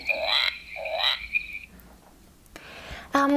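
Two bright electronic frog croaks from a children's sound book play in quick succession, followed by a short pause and a brief faint rasp at the end.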